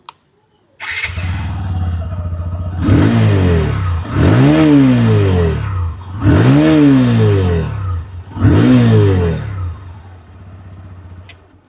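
A TVS Apache RTR 160 2V motorcycle engine starts and idles steadily, then revs up four times in strong, evenly spaced bursts before settling back to a smooth idle.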